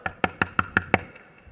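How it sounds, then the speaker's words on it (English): Six quick, evenly spaced knocks sound on a door, sharp and close with a slight wooden resonance, followed by quiet. "you hear a knock at the door."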